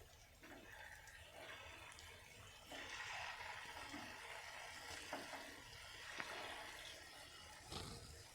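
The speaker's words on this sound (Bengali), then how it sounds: "এবার লো ফ্লেমে পিঠাগুলি ভেজে নিতে হবে এভাবে উল্টিয়ে পাল্টিয়ে।" Kul pitha, rice cakes made with date molasses, frying in oil on a low flame, a steady soft sizzle with occasional light clinks and stirring noises as the cakes are turned.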